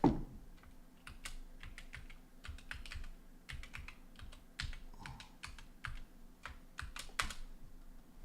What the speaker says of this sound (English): type the goddamn password